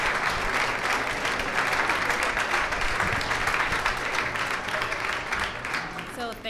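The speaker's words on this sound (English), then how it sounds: "Please give her another big round of applause." An audience at a pitch event breaks into sustained applause for a presenter, dense steady clapping filling the room for several seconds with some voices mixed in, tapering slightly at the end.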